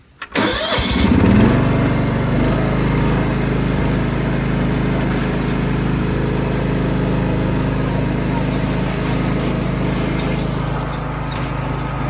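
A Craftsman GT6000 garden tractor engine cranks briefly and catches, then runs steadily at a loud, constant throttle close by for the rest of the stretch, with a steady mechanical drone throughout.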